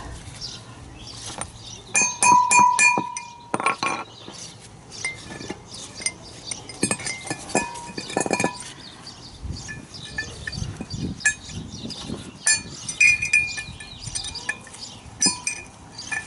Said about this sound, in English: With a chisel, we hit it kind of hard